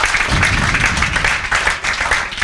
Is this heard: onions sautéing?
no